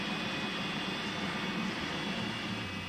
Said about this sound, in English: That early morning tranquility is quickly shattered by the sound of power and thunder generated by this turbine engine.